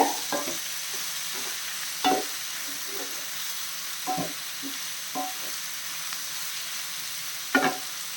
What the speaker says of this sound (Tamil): நல்லா கிளறிப்போம். ஹை ஃப்ளேமில் ஒரு 5 நிமிஷம் இந்த மாதிரி வச்சுக்கோங்க.